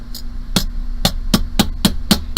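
A rawhide mallet pounds a metal jewelry pendant on a sinking stump, with seven sharp, evenly spaced close knocks over a low steady hum.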